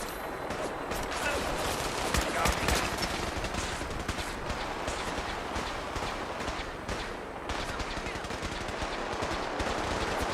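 Gunfire in the video game Fallout 4, with dense, continuous rapid bursts of automatic weapons and scattered shots in a chaotic battle, with a voice calling out faintly beneath.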